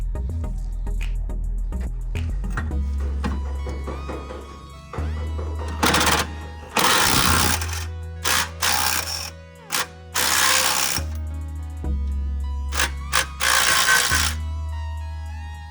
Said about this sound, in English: So I've removed the bar there that was held by those 4 bolts